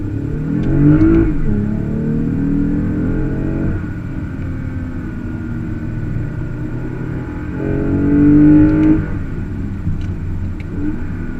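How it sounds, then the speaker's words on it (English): A stock 2020 Toyota Avalon TRD engine revs up loudly twice, rising in pitch as it accelerates, with a steady rumbling drone between the pulls. "Who knew stock Toyotas made that much noise?"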